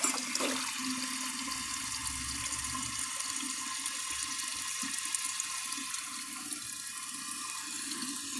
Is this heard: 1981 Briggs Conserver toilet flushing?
yes